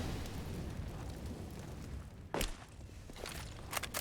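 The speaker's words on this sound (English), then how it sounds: "Molotov in towards X-Floud." A molotov thrown and bursting into flames on the Inferno map in Counter-Strike, a dull whoosh and thump partway through over a rumbling in-game backdrop, followed by a few sharp clicks and cracks.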